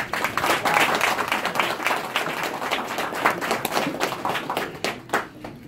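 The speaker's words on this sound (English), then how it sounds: "could you please join me in giving yourselves a round of applause" Audience applause at a campaign kick-off speech for a Shelby County Commissioner race, a dense, steady wash of many clapping hands that holds loud throughout and thins slightly near the end.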